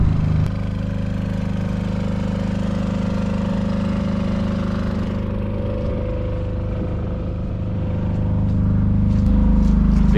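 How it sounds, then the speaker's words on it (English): A large generator on a narrowboat, powering washing and drying machines, drones steadily and loudly, a low constant engine hum with no breaks, running alone throughout. "Big generator, but that's running all the washing machines and drying machines."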